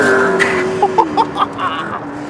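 A McLaren P1 with a 3.8-litre twin-turbo V8 hybrid engine drones steadily on a race track, its pitch sliding lower as it shifts, with a few short chirps over it, loud and close.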